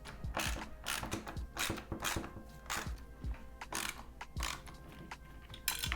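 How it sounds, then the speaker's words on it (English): Three screws being backed out with a T25 Torx bit during a BMW G42/G80/G82 steering wheel swap: a run of close, sharp ratcheting clicks and small mechanical ticks at an irregular pace, with no talking. "next you just want to get a T25 Torx bit and remove these three screws in the middle"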